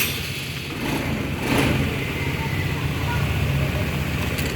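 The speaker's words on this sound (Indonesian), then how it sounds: "Dan coba motor nyalakan." A Honda Vario 110 FI scooter with starter trouble cranks and fires up, its engine noise swelling after a brief starter whir and settling into a loud, steady idle close by.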